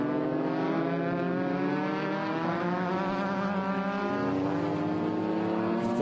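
A Formula 5000 race car engine roars steadily with a rich harmonic whine as the car struggles for traction on a wet track at Winton Motor Raceway, loud and sustained with no talk.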